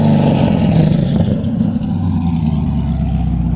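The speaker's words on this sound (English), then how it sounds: "Go ahead and give me a couple revs." A 500 hp Corvette engine rumbles loud and close, its deep throaty idle swelling slightly as it is revved, with no voices over it.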